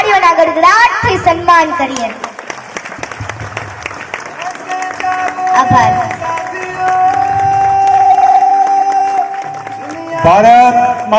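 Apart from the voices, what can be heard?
audience applauding to honour soldiers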